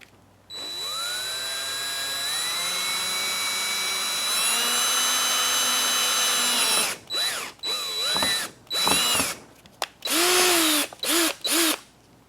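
A cordless power drill whines as it drives a drywall screw into the oil seal of a Kohler XT6 mower engine: a long, steady rising motor note, then several short stop-start bursts as the screw is guided in, close and loud.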